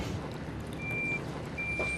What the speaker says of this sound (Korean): 그 시각 트럭 한가득 벽돌이 실려온다.